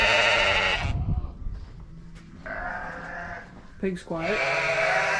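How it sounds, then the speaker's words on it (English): Sheep bleating loudly in a barn shared with pigs and goats, long wavering cries close by with a short break, while someone speaks briefly between the calls. "The sheep are obviously not quiet."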